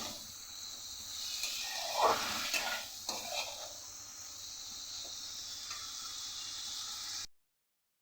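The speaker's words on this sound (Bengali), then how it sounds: "সামান্য একটু জল দিই।" Long beans frying in a pan with a steady sizzle and stirring, plus a brief louder burst of hissing and clatter as a little water is added, then continuous frying until the sound cuts off.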